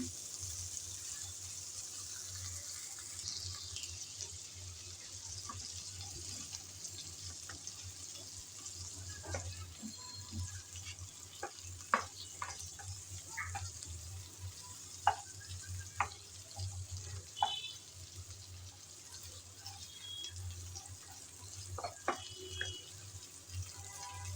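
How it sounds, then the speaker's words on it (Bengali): Prawns stir-frying in oil, a soft continuous sizzle with scattered scraping and clinking of a spatula against the pan, faint and close. "নেড়ে চেড়ে দুই এক মিনিটের মতন ভেজে নিলাম"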